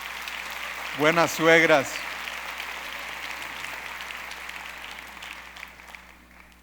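Church congregation applauding mothers-in-law, a soft, distant wash of clapping that lingers and fades after a brief spoken phrase near the start.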